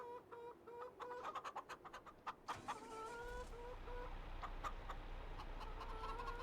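Flock of chickens at a coop in Farming Simulator 25 cluck in quick repeated bursts with drawn-out calls layered over them and a low rumble below. The sound is moderately loud and continuous, with no talk.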